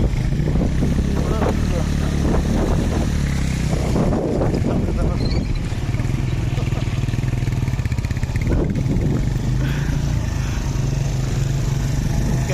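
Motorcycles riding through a water crossing on a touring trip in Balochistan, engines droning loudly and steadily amid heavy wind buffeting, with bursts of splashing and riders talking over the noise.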